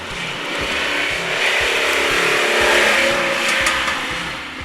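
A 1985 Lamborghini Jalpa engine pulling hard under acceleration, a loud, close, rising rumble with a rhythmic low pulse that swells and then eases slightly, with no talking.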